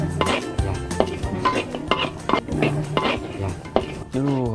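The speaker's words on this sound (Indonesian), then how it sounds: "Saya yang bertugas mengiris dan mengulek bumbu-bumbu di atas cobek" Sliced spice paste ground with a pestle on a stone cobek, for Banjarnegara-style chicken petis: a steady series of close, gritty scraping and knocking strokes, with a voice briefly heard near the end.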